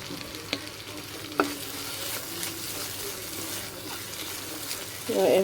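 Beef pieces frying in oil in a pan while being stirred, a steady loud sizzle with occasional scraping and clinks of the spoon, close by.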